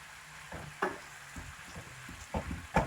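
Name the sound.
courgette slices sizzling and being stirred in a pan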